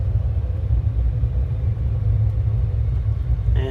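Aircraft engines spool up to about 40 percent throttle on the runway, a steady, loud, low rumbling drone that holds evenly throughout with no voices.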